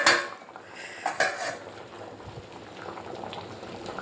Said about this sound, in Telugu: చింతపండు పులుసు పోసుకుందామండి